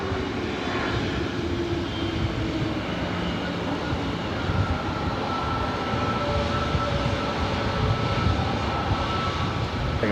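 An Airbus A321neo airliner at LAX taxis toward runway 24 right with a continuous low engine rumble, fairly loud and unbroken for about ten seconds.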